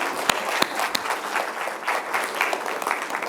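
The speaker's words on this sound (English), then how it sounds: "So a big round of applause for all of you," A conference audience bursts into applause, with dense, steady clapping from a crowd filling the room throughout and a few louder individual claps standing out near the start.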